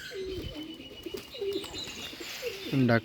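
Bombay and Rajshahi Black pigeons coo repeatedly, with soft overlapping calls up close and some faint chirping in the background.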